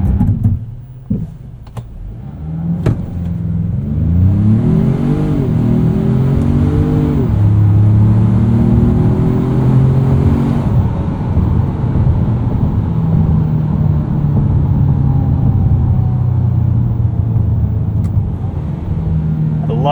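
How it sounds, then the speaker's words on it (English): A 2025 Ford Maverick Lobo with a seven-speed automatic accelerating hard from a standstill to 60 in Lobo mode, heard from inside the cabin: engine revs climb in steps through upshifts over a steady road rumble, loud and continuous. "Alright, let's toss this around in Lobo mode a little bit. We'll do a quick 0 to 60 here."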